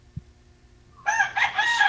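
A rooster crows loudly and close by, one strained call after a quiet moment with a faint thump.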